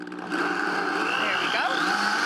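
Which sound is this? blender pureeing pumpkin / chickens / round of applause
blender pureeing pumpkin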